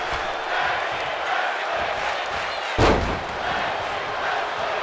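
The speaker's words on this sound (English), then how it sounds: "I believe the crowd saying, let's keep wrestling." Wrestling crowd at a tag team match filling an arena with a steady roar of voices, with a single loud thump midway through.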